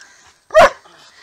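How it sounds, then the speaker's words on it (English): A single loud dog bark sounds up close, one sharp burst standing out against quiet background noise during a boxing match setting. "These dogs are still barking, though."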